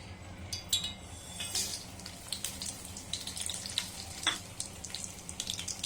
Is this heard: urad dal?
yes